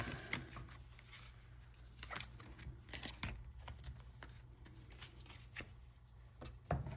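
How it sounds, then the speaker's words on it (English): A tarot card deck being shuffled by hand: soft, faint rustling and papery riffles with scattered light taps, quiet and close, no talking. "I'm going to go ahead and shuffle the deck here."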